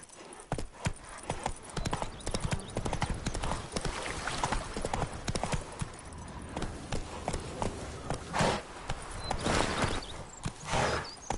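Galloping hooves of Roach, a horse in The Witcher 3, pound in a fast, steady clip-clop rhythm, close and loud throughout, with a few brief louder accents.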